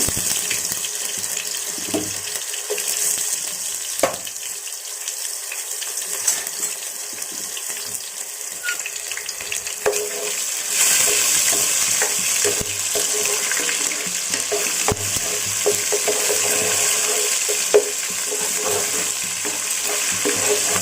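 Ground ginger-garlic paste frying in a pan for a tamarind fish curry, a continuous soft sizzle and hiss with occasional stirring clicks and scrapes, fairly steady throughout with no talking.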